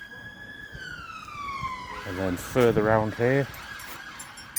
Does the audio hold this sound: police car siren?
yes